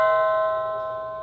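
A Halloween decoration doorbell gives a single bright electronic chime, a clear ringing tone that sounds once and slowly fades over about a second.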